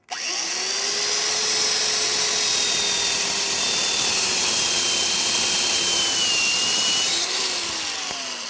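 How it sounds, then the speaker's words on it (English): A power drill drives a green wood boring bit into green wood for rustic furniture, a loud, steady whine that holds close and continuous before easing off near the end. "This is specifically a green wood boring bit."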